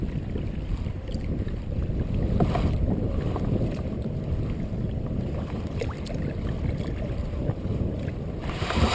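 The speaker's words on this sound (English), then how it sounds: "back paddle a little bit" A kayak back paddling on Lake Lavon: soft, continuous water swishing and sloshing from the paddle strokes under a constant wash of wind, with occasional light knocks.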